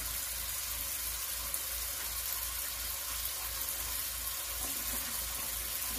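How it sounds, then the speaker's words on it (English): Water pours into a Pyrex baking dish set in a larger pan for a cheesecake water bath, a steady close hissing splash that runs without a break for several seconds. "Okay, and then put the water in there."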